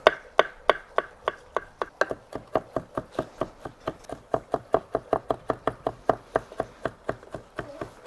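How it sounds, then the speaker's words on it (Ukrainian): A knife chops olives finely on a board in a quick, steady series of crisp taps, about three per second, close and clear with no talking. "Тепер необхідно мілко нарізати маслини."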